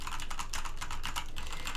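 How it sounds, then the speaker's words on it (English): A Corsair K70 Rapidfire mechanical keyboard with linear Cherry MX Speed switches being typed on briskly, close up, producing a quick run of distinct, moderately quiet key clacks in an even rhythm, no speech. "the typing demonstration"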